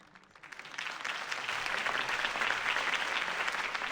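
Crowd applause after a political campaign speech in a Batman adventure game, rising quickly from quiet into a dense, steady wash of clapping that keeps building.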